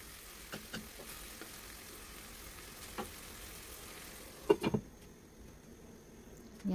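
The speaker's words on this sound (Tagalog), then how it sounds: "So, halo-haloin muna natin." Beef menudo stew with bay leaves is stirred in a pot: a quiet, soft simmer with a few faint clicks, then a short cluster of spoon-against-pot scrapes.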